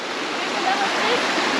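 A river in Sri Lanka rushes in a steady, loud, broadband wash of flowing water, close and continuous, with a faint voice barely under it.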